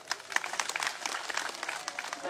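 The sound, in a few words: audience applause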